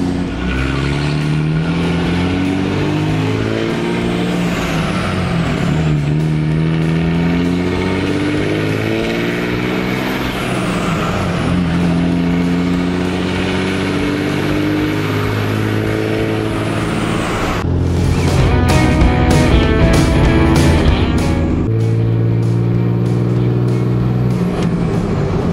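A truck with a 5.9 Cummins diesel engine running on only three cylinders drives along, its loud, steady drone rising and falling in pitch as it speeds up and shifts, with a rougher, harsher stretch near the end.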